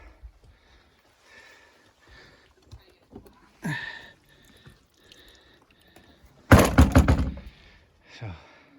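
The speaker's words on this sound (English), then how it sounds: "the door" The door of a crashed plane's wreckage, found on a hike near Water Rock Knob, is moved with a couple of dull clunks and a louder rattling scrape amid quiet voices.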